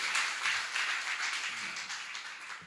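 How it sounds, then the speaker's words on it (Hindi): A live audience at a Hindi talk clapping, dense sustained applause of many hands filling the whole stretch, fairly loud and steady, then easing slightly toward the end. "तुम्हारे दुखते नहीं हाथ इतने ताली बजाते बजाते?"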